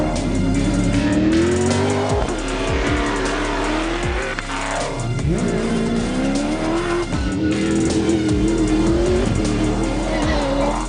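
Cross-country race cars at a crowded start chute at a recreation club roar continuously, engines revving and rising in pitch with tyre noise, loud and dense throughout.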